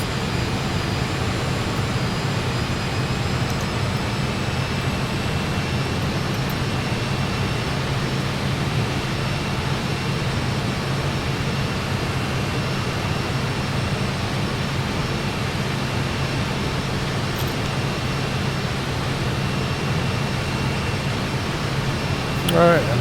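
Fokker F28 jet engines heard from the cockpit during flight, a steady broadband roar and hum that stays even and continuous throughout, with a thin high whine running over it.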